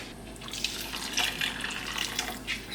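Water poured from a measuring jug into a cooking pan while making a one-pan chorizo rice, a steady close splashing and trickling with a soft background hum.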